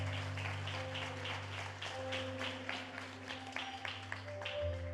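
Faint, rhythmic clapping from a church congregation during a morning service, beating in a steady pulse over a constant low electrical hum.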